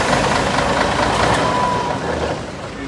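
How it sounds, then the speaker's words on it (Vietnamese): The engine of a Hyundai 47-seat bus runs steadily after repair, a loud, rough idle heard up close with no talk over it. "các bạn mọi người cùng nghe cái động cơ sau khi mà Lộc đã sửa ha"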